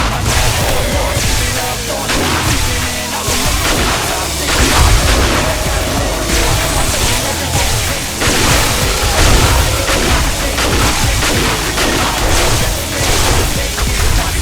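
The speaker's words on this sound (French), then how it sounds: "Lâche quelques grenades" Grenade explosions in the video game 7 Days to Die, a dense, loud barrage of booms and blasts rolling one into another with almost no pause for the whole stretch.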